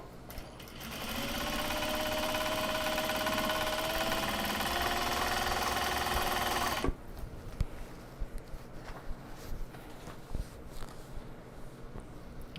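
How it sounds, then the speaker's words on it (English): A sewing machine stitches the end seams of a small box bag, running steadily for about seven seconds before stopping, followed by quieter handling clicks and taps. "I'll just throw them under the machine."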